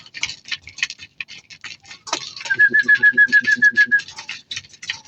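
Young racing pigeons at their loft, with a run of soft, rhythmic cooing pulses mid-clip, a thin steady whistle above it and light scattered rustling and tapping before and after.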